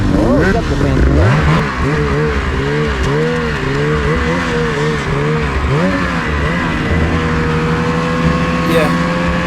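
Polaris and Ski-Doo race snowmobiles run on a motocross track. Their engines drone loudly and continuously nearby, with the pitch repeatedly rising and falling as the throttle is worked.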